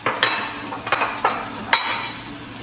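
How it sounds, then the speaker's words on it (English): Utensil clinks against a pot while miso is added to simmering porridge: four or five sharp, close metallic taps at uneven intervals, with no talk. "So the last step would be to put the miso in there."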